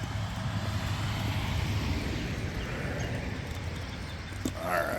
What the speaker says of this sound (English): Gotta wait for the traffic to calm down.